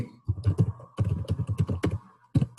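Computer keyboard typing, close and crisp, with bursts of rapid keystrokes broken by short pauses.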